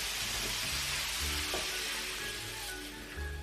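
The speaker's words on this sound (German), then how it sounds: "dieses Anbraten ist nur, damit er sowas wie eine Kruste kriegt" Meat searing in a hot pan to form a crust, a continuous crackling sizzle with a few low thumps as it is moved.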